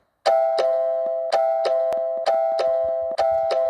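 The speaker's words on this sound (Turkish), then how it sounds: "Görüyorsunuz zil sesimiz bu şekilde" A bright electronic two-tone doorbell chime from the video game Toca Life repeats several times in a steady pattern, each ding-dong ringing out clearly with no voices.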